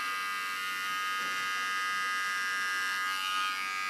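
A small electric hair clipper, oiled and used for sharp tattoo-style lines during a hair makeover, buzzes in one steady, even hum throughout, close and alone with no voices.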